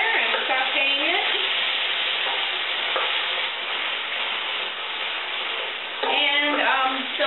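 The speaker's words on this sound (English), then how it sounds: "Kind of tossing the flavors all together and sauteing it." Tofu scramble with spices sautés in a pan, a steady close sizzle with stirring, while a voice speaks over it at the start and again near the end.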